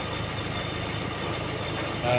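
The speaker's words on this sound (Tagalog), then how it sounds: "Ayaw mandar ng makina." An engine cranks in a steady, rapid, rhythmic churn without catching, close and continuous for a couple of seconds.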